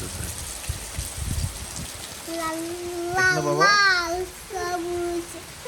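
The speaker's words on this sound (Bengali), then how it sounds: "পুরো অন্য লেভেলে বৃষ্টি" Heavy rain pours down steadily during a violent storm, a dense hiss running throughout, with a few low thumps early on and a voice talking over it later.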